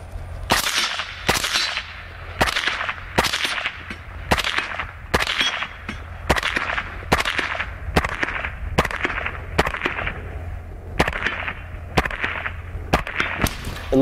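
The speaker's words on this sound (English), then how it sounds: "you go fully automatic and you've got a lot of rate of fire" Rapid bursts of fully automatic fire from an AAC Honey Badger rifle on steel targets at 100 meters, a long string of loud, sharp reports in quick repeated clusters with no talk.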